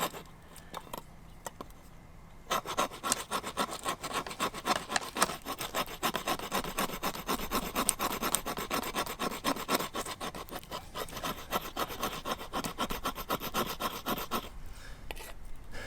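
A knife blade scrapes resin-rich fatwood outdoors, a dense continuous rasping and scratching that runs steadily for most of the stretch after a brief quiet start, close and fairly loud, with no talking.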